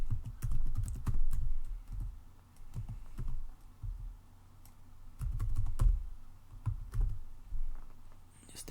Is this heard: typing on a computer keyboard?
yes